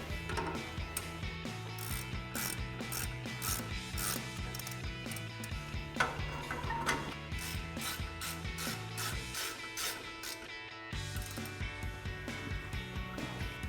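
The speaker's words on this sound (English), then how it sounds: "we can grab our ratchet and tighten them down." A hand ratchet clicking rapidly as 21mm brake caliper bracket bolts are tightened on a 2006-2018 RAM 1500, close steady bursts of ratcheting pawl clicks with brief pauses between strokes, no talking.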